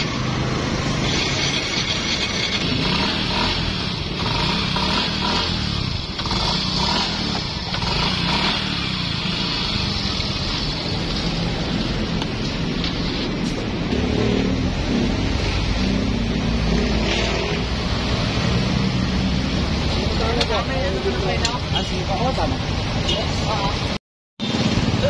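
A motorcycle engine idling steadily after the throttle is released, on a bike with a loss-of-compression fault, a continuous close rumbling drone lasting throughout with a voice talking over it.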